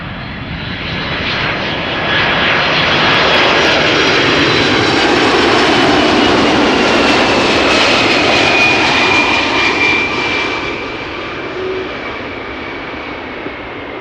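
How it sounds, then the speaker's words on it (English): Jet engines of a United Boeing 767 at Schiphol Airport build into a loud, broad roar that swells to a peak mid-passage and then slowly fades, with no voices over it. "United 767, what a treat."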